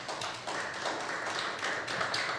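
Church congregation clapping as an offering of applause to the Lord, a steady run of many hands patting together at moderate distance with no voices over it.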